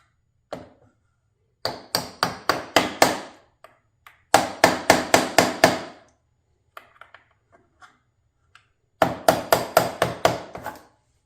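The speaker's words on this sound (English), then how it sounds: "I'm going to hit it sideways with the hammer." A hammer strikes sideways to drive a cap onto the rod of a Peg Perego John Deere toy ground loader. The sharp metallic taps come close and in quick bursts of five or six blows, with pauses and a few lighter knocks between.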